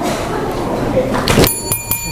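Bright bell sound effect ringing as a subscribe reminder, a few quick metallic dings with a sustained shimmer near the end, laid over a person talking.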